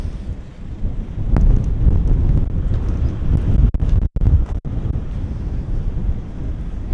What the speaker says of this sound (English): I don't know if you can hear the wind blowing a gale here